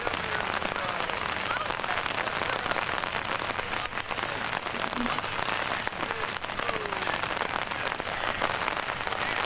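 Steady rain falls on an outdoor Fourth of July gathering at Fall Creek Falls, a constant dense patter throughout, loud and close with no pauses.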